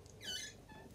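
An old, tatty boiler door that is due for replacement gives a single high, drawn-out squeak as it swings on its hinges. The squeak peaks midway through the short clip over a faint background hum.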